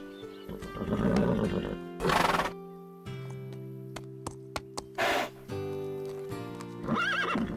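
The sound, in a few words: horse whinnying, from an animated cartoon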